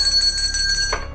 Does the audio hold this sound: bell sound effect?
yes